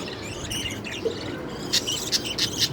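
Pet budgerigars chirp in short, bright bursts, a few sharp calls clustered toward the end over a soft background hiss.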